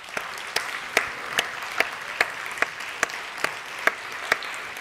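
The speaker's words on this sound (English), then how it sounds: "If you would just stand for a moment so we can give you a round of applause." A small audience at a 6th and 7th grade academic awards ceremony applauds its teachers. Sparse, even handclaps come close together about every half second, with faint room ambience between them.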